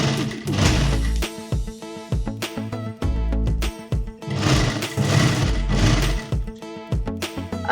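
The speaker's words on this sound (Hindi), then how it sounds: "इलास्टिक का मैं पैनल बना रही हूँ, उसके साइड से सिलाई मार रही हूँ।" Sewing machine running in steady bursts while stitching along the side of an elastic panel for a pair of ladies' pants, close and loud with brief pauses between runs.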